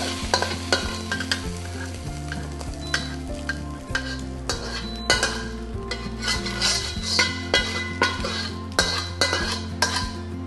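Eggs with poked yolks frying in a wok that did not heat through evenly, a constant sizzle broken by frequent scraping and clinking of a metal spatula against the pan, close and without talk.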